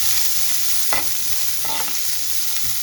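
Onion, green chilies and curry leaves frying in hot oil, a steady close sizzle with a few stirring scrapes partway through.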